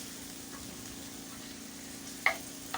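Meat pie filling cooks quietly in a pan, a faint, steady low sizzle with a couple of brief clicks near the end and no talking.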